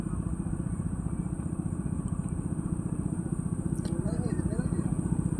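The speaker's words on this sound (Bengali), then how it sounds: "বোট চলতেই আছে সামনের দিকে।" A fishing boat's engine running out at sea gives a steady, pulsing low throb that continues throughout, with wind and water noise and voices speaking over it.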